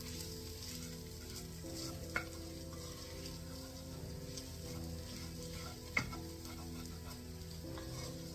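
Food fries steadily in hot oil for a lamb shank curry, a constant close sizzle and crackle with two sharp clicks of a utensil against the pan.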